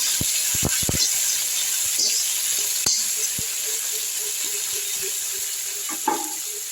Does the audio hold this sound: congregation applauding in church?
no